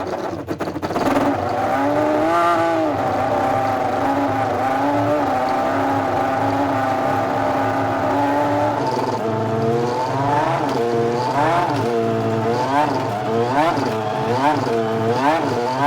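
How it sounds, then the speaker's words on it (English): A Honda NSX GT500 race car in Castrol livery in a racing video game idles with a loud, steady engine drone, then revs up and down in repeated rising and falling bursts. "they put a lot of noise into that car"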